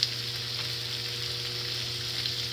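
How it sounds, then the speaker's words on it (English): Beef ribs sear meat side down in a hot pan, giving a loud, steady hiss of fat sizzling that holds evenly from start to finish, heard close with nothing else over it. "you always want to put the meat on the actual meat side down"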